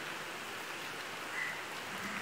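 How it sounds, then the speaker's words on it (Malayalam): Light rain falls outdoors as a soft, even hiss, faint and steady throughout, with no voices. "ഇപ്പൊ മഴ പെയ്തു, മഴ പെയ്യുന്ന വീഡിയോ ഞാൻ കാണിച്ചു തരാട്ടാ."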